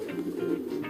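A racing pigeon cock in its loft gives soft, close, rolling coos, several low pulses in a steady rhythm, with no talk over them.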